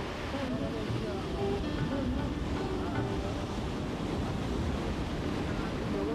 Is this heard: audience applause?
no